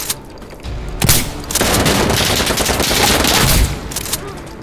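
Shotgun fire in Insurgency Sandstorm, a few loud, close booming blasts in quick succession followed by a sustained dense burst of gunfire and battle noise, with no talk.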